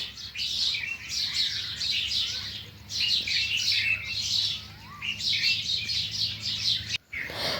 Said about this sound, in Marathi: जसा कोकिळ ओरडला तसे सारे पक्षी जे आहेत ते उठलेली आहे